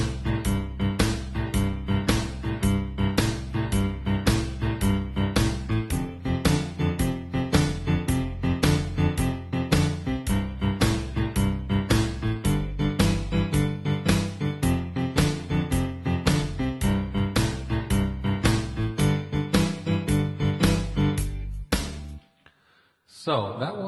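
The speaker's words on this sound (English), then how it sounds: "with a drum beat and up to speed with the swing notes, it should sound like this" Boogie woogie left-hand piano pattern played up to speed with swing notes over a steady drum beat, loud and continuous with a driving rolling bass rhythm, ending abruptly near the close.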